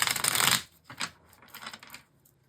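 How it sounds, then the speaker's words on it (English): Tarot cards are shuffled by hand in a quiet room, a brisk riffle followed by a few softer, shorter shuffling bursts, close and fairly faint with no talking. "Please, one more shuffle for Gemini."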